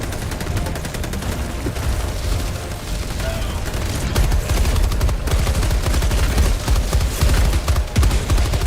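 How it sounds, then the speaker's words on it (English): Grenade launcher fire in Helldivers 2, a dense and loud barrage of sharp bangs and rapid bursts amid ongoing combat noise, growing heavier in the second half, with voices mixed in. "Oh, yeah, that's a grenade launcher."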